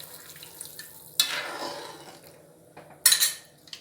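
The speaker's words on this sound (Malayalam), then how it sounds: "ഞാനിതിലേക്ക് 2 ടീസ്പൂൺ കോൺഫ്ലോർ എടുത്ത് വെച്ചതിലേക്ക് കുറച്ച് വെള്ളം ഒഴിച്ചിട്ട് ഈ ലൂസിനാക്കിയിട്ടുണ്ട്. ഇത് ഒഴിച്ചു കൊടുക്കുകയാണ്" Cornflour slurry splashes into a pot of boiling mixed vegetable soup in two short, hissing pours, each fading quickly, with quiet kitchen clatter in between.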